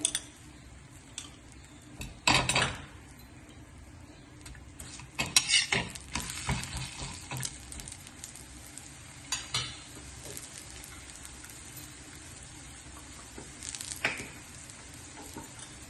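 A fig mixture cooks in ghee as it is stirred, with a quiet, continuous sizzle broken by occasional sharp clinks and scrapes of a utensil against the pan.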